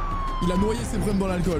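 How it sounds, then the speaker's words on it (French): An ambulance siren wails in a video game restaurant scene, a steady tone running under French conversation throughout. "C'est une ambulance qui vient d'arriver?"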